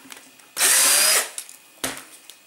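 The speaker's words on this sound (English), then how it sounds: "Drill a hole, pilot hole with a very thin drill" A power drill bores a pilot hole with a very thin bit into a wagtail swivel brush, one loud sustained burst of about half a second followed by a shorter whirr.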